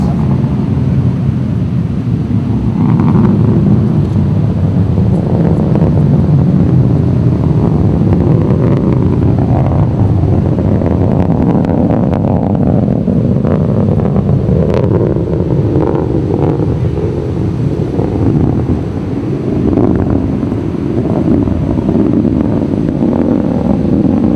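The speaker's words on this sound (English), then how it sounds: "the sound of the rocket reaches us, and we experience the full roar of the engines" A Delta II rocket's engines roar during launch, heard from far away as a loud, sustained broadband rumble that swells and drifts over about twenty seconds, partly mixed with wind buffeting.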